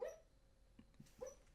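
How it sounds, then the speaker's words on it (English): A dog barks faintly in the distance with a few short, soft yips and barks spread over a second and a half, in an otherwise quiet room. "doggy's barking."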